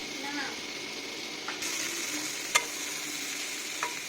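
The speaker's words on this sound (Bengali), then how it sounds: "সেই মাছ ভাজা তেলের মধ্যে আমি পেঁপে আলুগুলোকে দিয়ে দিলাম, দিয়ে এটাকে আমি এখন ভালো করে একটু ভেজে নেব।" Papaya and potato pieces frying in mustard oil left over from frying prawns, giving a soft continuous sizzle with a few brief clinks of a utensil against the pan.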